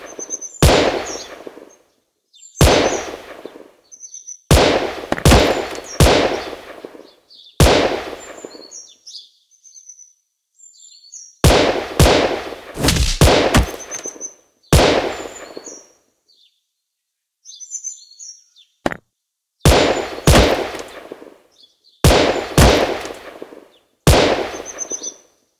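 Gunfire in the video game Gun Sprint: loud, close bursts of rapid shots in clusters separated by short silences, with faint chirpy game effects between volleys and no talking.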